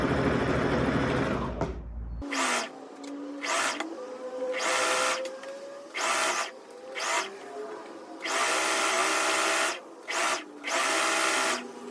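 A sewing machine stitches a black dress in repeated bursts, each run a steady mechanical whirr that starts and stops with short pauses between seams, close and clear with no talking.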